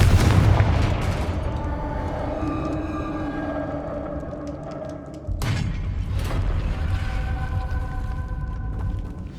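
The Confringo fire spell in Hogwarts Legacy, heard as loud booming explosive blasts: one burst at the start and another sharp one midway, each trailing into rumbling game sound.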